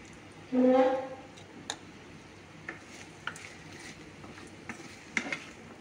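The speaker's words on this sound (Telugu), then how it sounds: "మా కోడలు చేస్తుందండి వంట, క్యారెట్ ఫ్రై" Carrot fry with turmeric being stir-fried in a pan, opening with a loud brief clatter, then quiet scattered taps and scrapes of a spoon against the pan over a low sizzle.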